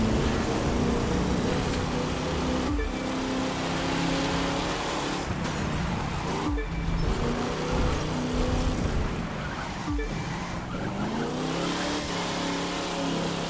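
A muscle car engine in the video game The Crew 2 revs hard and continuously, with the pitch rising and falling as gears shift several times, loud, steady and close throughout.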